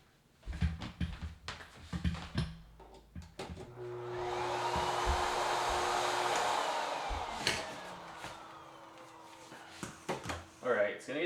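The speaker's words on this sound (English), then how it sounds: "I'm just going to take a vacuum that I have, a nozzle, and I'm just going to vacuum it up on the inside." A vacuum cleaner with a nozzle attachment cleans out the inside of a DF64 coffee grinder, a loud steady roar running for several seconds mid-clip, bracketed by clicks, knocks and handling sounds of the grinder parts.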